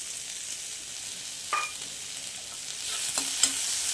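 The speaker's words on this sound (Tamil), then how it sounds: "வெங்காயம், பச்சை மிளகாய் எல்லாம் போட்டு நல்லா வதக்கிடலாம்" Onions and green chillies sautéing in a pan for Chettinad okra pachadi: a soft, even sizzle with a few brief spatula scrapes, growing slightly louder toward the end, no talking.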